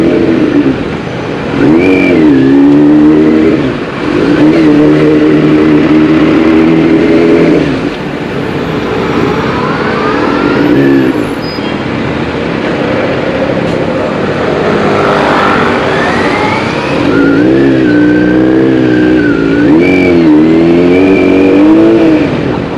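A car engine starts and revs steadily for over twenty seconds, loud and close, its pitch rising and falling with repeated throttle swells, with no talking over it.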